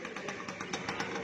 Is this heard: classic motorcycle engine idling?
yes